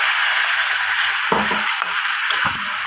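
Masala sizzles and fries loudly in a pan for a Bengali chilli fish dish. Water is poured in and briefly changes the hiss, and stirring scrapes come through in short bursts.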